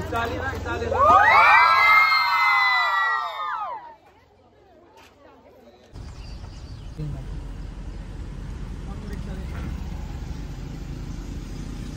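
A crowd shouts and cheers loudly for a few seconds, voices rising and falling together, then fades into steady engine rumble and distant chatter.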